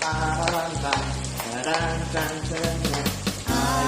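Onions fry in a hot pan, sizzling loudly and continuously while being stirred, with scraping clatter and utensil knocks recurring in a steady rhythm close up.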